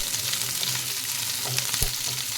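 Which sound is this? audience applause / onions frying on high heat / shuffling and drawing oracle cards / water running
onions frying on high heat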